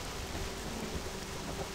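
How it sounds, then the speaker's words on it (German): A steady wash of rain with a low thunder rumble from a thunderstorm in the Black Desert Online video game, soft and continuous throughout. "Jetzt ist auch noch Gewitter, oh Gott."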